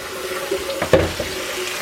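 Cold tap water runs steadily into a kitchen sink over raw pork belly being washed and soaked, a close, continuous splashing hiss with a few brief clunks and shifts partway through, no talk.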